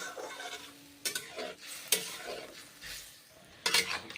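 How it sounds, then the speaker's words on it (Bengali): Mushrooms fry in a wok with a continuous close sizzle, cut by several loud bursts of scraping as a spatula stirs them against the metal; no talking. "মাশরুমগুলো এখন দিয়েছি, কড়াইয়ে ছেড়ে দিলাম মাশরুমগুলো।"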